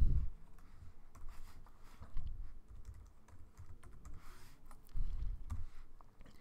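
Keys clatter on a computer keyboard in steady quick bursts of typing, with low thumps now and then, close and moderately quiet, with no voice.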